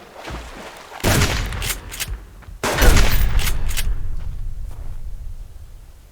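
Gunfire in the survival video game Subsistence: two sharp bursts of shots, the first around one second and a louder, longer one near three seconds, each trailing into a rumbling tail that fades out.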